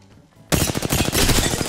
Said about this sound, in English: they are going to shoot me while I'm crafting.